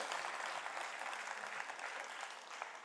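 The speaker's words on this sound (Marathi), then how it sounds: "त्यांच्यासाठी आपण जोरदार टाळ्या" Steady, dense applause from an audience welcoming the chief guest at a Marathi honour ceremony for a war widow, held close and even throughout with no pauses.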